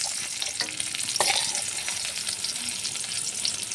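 Onion and potato fry together in a pan, browning for a chicken fry dish: a steady, close hiss of oil with a few soft scrapes and clinks of stirring, no voices.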